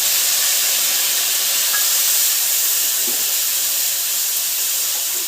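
Ginger-garlic paste, dry red chilli and cumin hit reddened fried onions in a hot pan, giving an even, loud hiss that holds steady throughout.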